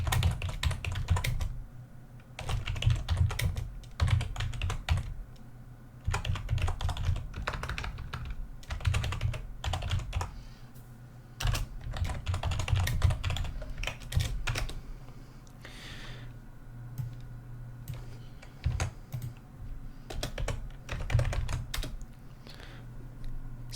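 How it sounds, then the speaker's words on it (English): Computer keyboard typing while writing code to solve regular expression problems, with close, crisp clusters of keystrokes coming in bursts separated by brief pauses, steady and fairly loud for the whole stretch. "typing noises begin now, and watch me code in away and suffer"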